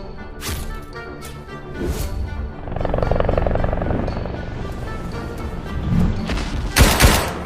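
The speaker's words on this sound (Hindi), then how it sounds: "आलिया घूमते हुए गुस्से में एक बॉटल बम हेलीकॉप्टर पे फेंक के मारती है और हेलीकॉप्टर ब्लास्ट हो जाता है।" An animated helicopter is struck by a thrown bottle bomb and explodes: rotor thumping and sharp cracks at first, then a long rumbling blast that swells and fades, ending in a few loud bangs.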